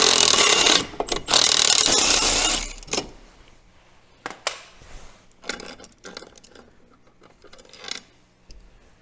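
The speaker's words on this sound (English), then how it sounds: "We need a big heavy duty impact gun to get the secondary off" A heavy duty impact gun hammers loudly in bursts on a four-wheeler's clutch bolt, followed by metallic clinks, rattles and handling of parts.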